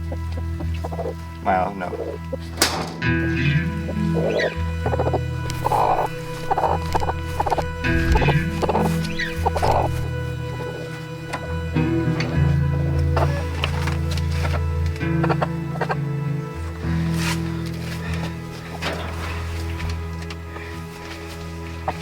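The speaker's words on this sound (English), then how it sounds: "So we have our chicken here in chicken jail." A hen shut in a cage clucks intermittently at close range over a steady low hum, and a person speaks briefly.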